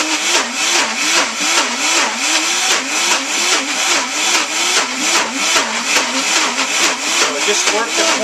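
A Vitamix blender grinds raw cashews into cashew butter. Its loud motor drones steadily throughout, with a pitch that rises and falls in a regular wobble as the thick mixture is churned.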